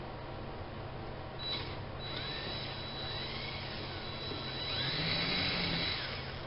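A small drill bit bores into the wooden neck of a Gretsch hollow-body guitar, giving a steady high whine with a brief rising pitch change, then a louder stretch near the end, with constant background noise and no talk.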